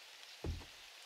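Steady soft rain hisses in the survival game 7 Days to Die, faint and constant throughout, with a single dull thud of something being placed partway through.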